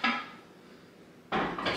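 A pot set down on a home stovetop among Valentine's Day decorations gives a short, close clank, then a second, louder knock of metal and ceramic a little over a second later.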